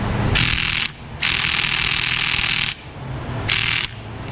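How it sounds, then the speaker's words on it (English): An electric quarter-inch drive impact wrench hammers at a tight plenum bolt in three loud, rapid rattling bursts separated by short pauses, with no talk. "these snap-on and mag electric quarter drive impacts will do 150 and 200 foot-pounds, and so I'm going to try to get it off here"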